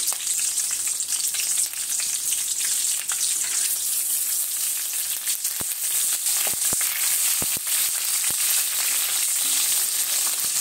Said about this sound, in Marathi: मिरची आपली फ्राय होते